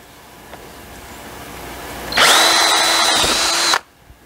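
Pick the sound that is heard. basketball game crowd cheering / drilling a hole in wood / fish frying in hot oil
drilling a hole in wood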